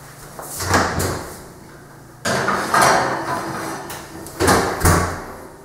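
An oven door thudding and clanking as trays of baked eggs go in, several knocking impacts with rattling metal between them, close and moderately loud.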